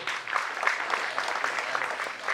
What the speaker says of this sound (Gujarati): સતીશને જરા તાળીથી વધાવજો